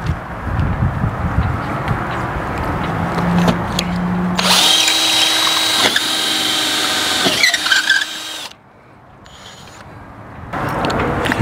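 A power drill bores holes into a boat transom, whining loud and close in a sustained run. It drops out briefly near the end before starting again.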